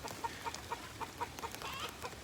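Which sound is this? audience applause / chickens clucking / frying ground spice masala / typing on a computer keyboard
chickens clucking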